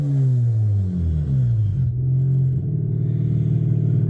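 Replacement rotary engine in a Mazda RX8 being revved, loud and close, with a smooth idle note climbing and falling in pitch as the throttle is blipped, then settling back to a steady idle.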